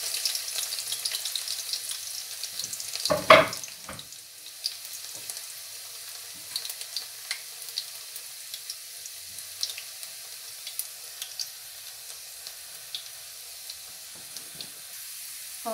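Garlic frying in a pan, a faint, continuous sizzle with a single louder clatter early on and scattered small pops, no talking.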